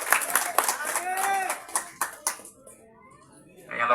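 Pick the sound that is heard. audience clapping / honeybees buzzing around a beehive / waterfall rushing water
audience clapping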